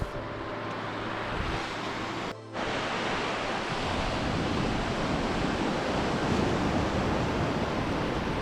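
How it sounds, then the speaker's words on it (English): Sea waves washing in and out on a sandy shore at North Berwick, a steady loud roar of surf with wind buffeting the microphone and a brief dropout partway through. "what a great noise, that water coming in and out"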